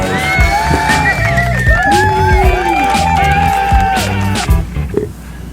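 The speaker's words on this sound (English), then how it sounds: "give them a shout of applause" A lively crowd at a city council candidate forum whoops, yells and cheers loudly for several seconds, voices overlapping in a burst of excitement that fades out at the end.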